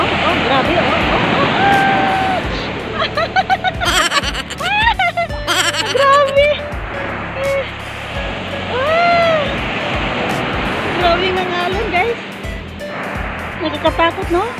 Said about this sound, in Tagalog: Grabe ang ano, super wave. Laki ng wave.